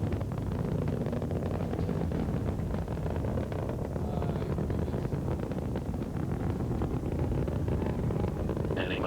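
Space Shuttle Discovery's three engines roar on after launch, a heavy continuous rumble with crackling texture, steady and full from start to finish.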